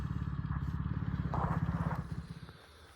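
Heavily modified Echo 590 chainsaw with a poorly tuned carburetor running roughly, uneven sputtering engine pulse that surges briefly and then fades, fairly quiet.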